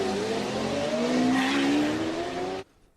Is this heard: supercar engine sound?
yes